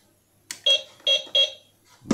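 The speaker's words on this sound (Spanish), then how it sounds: "Como veis, tres pitidos también como la pala." Three evenly spaced electronic beeps sound as a 1/20-scale Double E RC dump truck with a 2.4 GHz eight-channel radio is switched on, followed by a short thump at the end.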